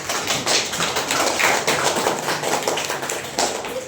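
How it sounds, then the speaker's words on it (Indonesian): A group of children in a classroom claps their hands together in a fast, uneven burst of loud, dense slaps that runs the whole time. "Bagus, tepuk tangan."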